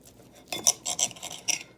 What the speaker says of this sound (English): I normally would not cut this with a knife.